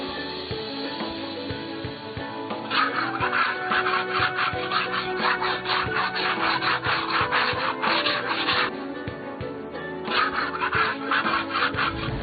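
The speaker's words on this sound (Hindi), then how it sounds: "रेगमाल से एक दीवार साफ करने में मसरूफ हो गई" Sandpaper scrubs steadily across a wall, a dense, continuous rasping that swells into brisker back-and-forth strokes mid-way, pauses briefly, then resumes close and alone.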